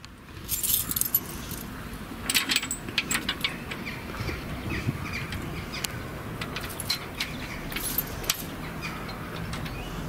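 A bunch of keys jangles in bursts of bright metallic clinks against a steady outdoor background, with faint bird sounds and no talking.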